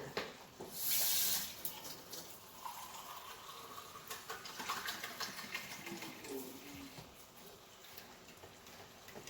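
Water runs from a tap in a quiet kitchen, starting with a brief strong gush and then continuing as a softer, uneven trickle.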